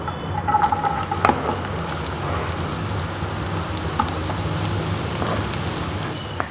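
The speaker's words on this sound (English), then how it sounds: "Time to add the onions now." Chopped onions dropped into hot oil for Goan prawns recheado, giving a steady, fairly faint crackling sizzle that continues evenly with a few brief clinks.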